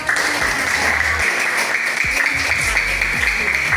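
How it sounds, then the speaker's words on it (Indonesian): A crowd claps steadily for several seconds, a dense wash of applause with low rumbling thumps underneath. "Iya, tepuk tangan"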